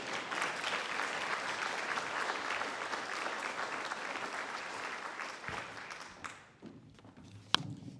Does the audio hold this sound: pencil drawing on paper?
no